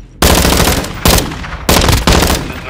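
A deployed sentry gun in Call of Duty: Modern Warfare II, Mt Zaya co-op, fires loud, close bursts of rapid automatic shots, four quick volleys in a row.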